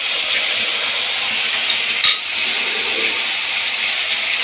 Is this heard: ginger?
yes